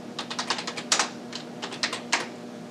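Rapid keystrokes on a USB keyboard connected to a Raspberry Pi Zero, clicking in uneven bursts of taps with short pauses, close and clear with a faint steady hum beneath and no voices.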